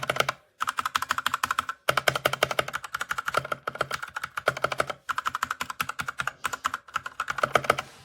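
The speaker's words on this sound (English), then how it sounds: "I really like the clickiness on this keyboard." Steady, fast typing on a Redragon K617 Fizz 60% wired RGB gaming keyboard with clicky hot-swap switches, crisp close clacks in rapid bursts with a few short pauses, no voices.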